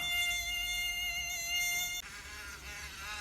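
A high, thin mosquito whine hums steadily nearby, shifting pitch slightly partway through as it moves.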